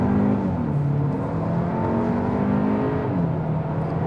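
Engine of a 2025 Hyundai Elantra N-Line pulls steadily under throttle from inside the cabin, a continuous droning hum that rises and shifts pitch through a gear change, with no talk over it.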